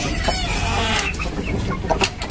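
Chickens of a Mangun crossed with Pakoi breed cluck in a backyard coop for free-range laying hens, with several overlapping clucks and squawks close by, and no one talking.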